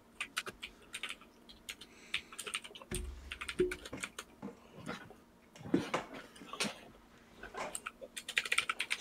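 Rapid typing on a computer keyboard during a Fortnite session, steady clusters of close clicks running throughout with brief pauses, a short low thump partway through, and no talking.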